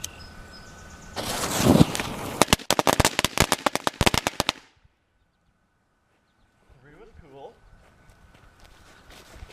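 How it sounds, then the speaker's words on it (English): Small homemade firecrackers cut from fireworks with short, fast-burning fuses: a fizzing burst followed by a rapid string of sharp, loud cracks and pops lasting a few seconds, then silence and faint sounds. "So they're kind of like little mini fireworks, not necessarily firecrackers, but still pretty cool."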